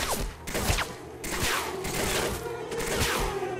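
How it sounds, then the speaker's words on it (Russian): Several sharp gunshots from a rifle in the STALKER video game, fired at a tree, crack out in an irregular burst over a steady, busy game background. "Вот в наглую стреляет в дерево."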